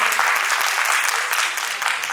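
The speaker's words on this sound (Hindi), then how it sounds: "अगर आप लोग सहमति दें तो मैं उसको आमंत्रित करूं, तो ताली बजा के आप उनको सहमति दें हमें" Audience at a Dandiya festival event applauding steadily, a dense, even wash of clapping that holds throughout without speech.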